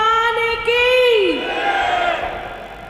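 A crowd at a Jain Guru Purnima gathering roars back a religious chant (jaykara): loud, close massed voices rising in one sustained shout and then fading out.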